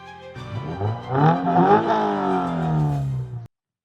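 A 2024 Toyota GR86 with a flat four-cylinder engine revs up loudly and close, the pitch climbing and then holding before cutting off abruptly.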